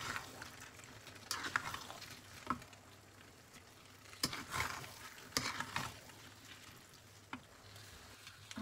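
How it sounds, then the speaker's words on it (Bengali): Rice stirred and fried together with cooked-down meat in a pot for homemade-spice biryani, giving a soft, steady sizzle broken by a few sharp scraping and clinking stirs, fairly quiet and close, with no talking. "এখন আমি এটার সাথে চালটাও সুন্দর করে ভেজে নেব।"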